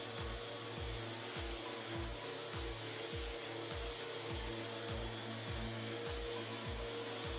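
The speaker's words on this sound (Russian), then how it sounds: "Так по очереди прохожу все щиты шлифмашиной с наждачкой 120" Orbital sander fitted with 120-grit sandpaper working an oak furniture panel: a steady whirring hum with a regular rhythmic scrubbing pulse, continuous and moderately loud with no voices.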